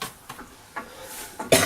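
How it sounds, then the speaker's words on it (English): A few short, close coughs from a person in a home kitchen while making apple turnovers, spaced across the moment with a louder final cough. "Oh, this cough."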